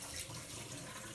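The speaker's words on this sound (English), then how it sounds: "And I'm gonna wash my hands again." Tap water runs steadily in a kitchen sink as hands are washed, a soft continuous splashing hiss with no talking.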